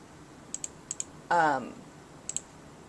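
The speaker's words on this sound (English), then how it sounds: "sorry, clicking on a bunch of stuff here." Sharp computer mouse clicks come in quick pairs, close and distinct, with a brief burst of speech in the middle.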